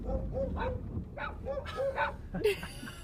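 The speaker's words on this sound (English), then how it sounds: "Crazy border dogs." Several dogs at the Montenegro border bark and yip in short repeated bursts, close and loud, with whimpering between barks and faint voices underneath.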